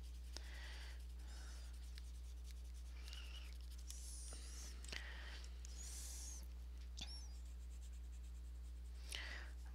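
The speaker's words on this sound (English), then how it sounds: "I'm trying not to put too much pressure on the pencil" Soft, close scratching of a coloring pencil on thin paper, applied with light pressure in short, faint strokes over a steady low hum.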